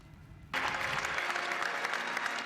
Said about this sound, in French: Applaudi longuement pour sa première visite dans la grande synagogue de Rome.